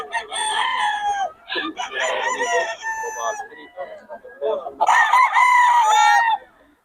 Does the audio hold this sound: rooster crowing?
yes